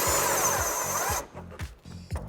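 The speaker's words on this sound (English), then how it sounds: "I'm going to take my 3/8 gun with a 16mm and a swivel" A 3/8-inch impact gun with a 16mm socket and swivel drives coil-over suspension bolts on a 2011-2022 Dodge Challenger, giving a close burst of rapid hammering over air hiss, then several short, choppy pulses.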